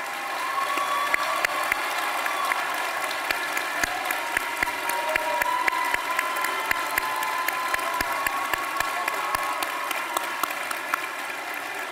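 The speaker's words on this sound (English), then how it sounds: "Let's recognize these incredible graduates with a hearty round of applause." A large commencement audience applauds graduates in a big hall, with dense, sustained clapping and some faint cheering throughout, steady and fairly loud.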